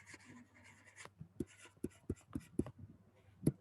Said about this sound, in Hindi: देखो मैं लिखता हूँ एब्जॉर्ब्ड ओवरहेड्स।